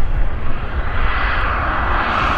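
Airliner landing at Vancouver Airport with thrust reversers deployed, a loud, steady roaring rush of engine noise that swells slightly, with no voices.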